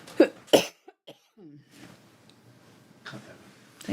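Two sharp, loud coughs close together near the start, followed by quieter throat sounds and soft breathing, then another cough burst later, from a person recovering from a lingering cough during a live acrylic painting session.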